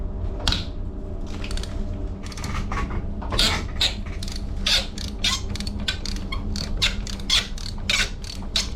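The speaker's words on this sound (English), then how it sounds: "Use the socket set to break these nuts and bolts." A socket set works loose rusty nuts and bolts on a chilled water pipe in a ceiling, giving repeated metallic creaks and ratcheting clicks in bursts over a steady background hum, close and fairly loud.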